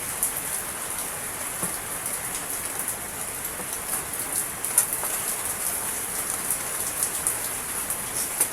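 Steady rain falls outdoors, a constant soft hiss of drops with scattered small patters, fairly quiet and unbroken throughout with no talking.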